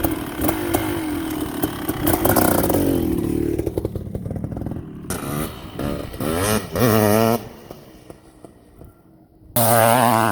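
A Kawasaki KX500 two-stroke dirt bike rides a snowy motocross track, its engine loud and close with throttle blips and surging revs, dropping out briefly before roaring back at full volume.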